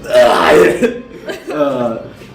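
A voice imitates someone coughing and choking after being punched in the solar plexus, a close, loud, strained gagging burst followed by a second throaty rasp, delivered by a storyteller during a tabletop role-playing game.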